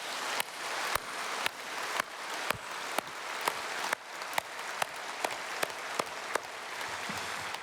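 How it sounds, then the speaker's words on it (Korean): Congregation applauding in thanks during a Korean church service at Sarang Church, a steady crowd clapping that holds at an even level for several seconds, with sharp individual claps standing out at regular intervals and no speech. "우리 감사의 박수 한번 올려드리겠습니다"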